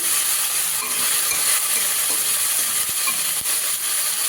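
Water spinach frying in a pan after a little water is added, giving a loud, steady hissing sizzle with a few faint stirring clicks, up close and without speech.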